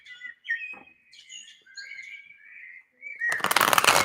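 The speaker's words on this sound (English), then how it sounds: "These birds are off the hook right now." Birds chirp and trill in a run of bright, quick calls close by, ending in a burst of loud broadband rustle like wing flaps or handling noise.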